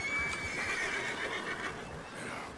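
A horse in the video game Red Dead Redemption 2 lets out a loud, drawn-out whinny near a water crossing during a hunt, with faint hoof movement beneath it.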